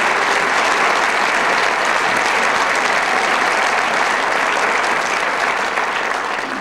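Sustained, dense applause from a theatre audience at the Casino de Paris, loud and steady throughout with no pauses, a broad wash of many hands clapping together.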